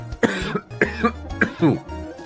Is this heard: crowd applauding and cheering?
no